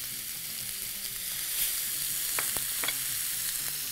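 Onions and carrots sizzle in a small amount of frying oil, a steady broadband hiss running the whole time with a few brief sharp pops and crackles, close by and with no talking.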